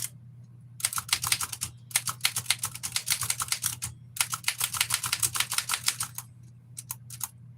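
Manual typewriter being typed on at a workbench, including a backspace stroke: close, crisp key strikes in rapid bursts separated by short pauses, with a low steady hum underneath.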